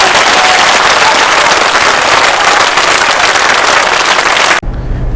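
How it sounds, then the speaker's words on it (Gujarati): A large crowd at a political rally in Gujarat clapping hard with hands raised, a loud, dense, continuous roar of applause that cuts off abruptly near the end. "2 હાથ ઊંચા રાખીને જોરદાર તાળીઓ પાડો"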